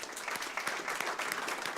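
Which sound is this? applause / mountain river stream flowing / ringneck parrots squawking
applause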